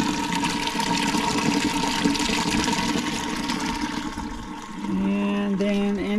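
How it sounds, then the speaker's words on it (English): A garden hose runs water into a barrel for a koi pond filter, making a continuous rushing, splashing flow, with a rising gurgling fill near the end. "So I got my hose running. So that's going from that barrel"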